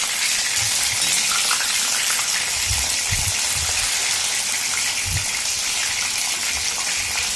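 Batter-coated mushroom 65 deep fries in hot oil, a loud, continuous bubbling sizzle with occasional soft low bumps as the pieces shift, and no voices.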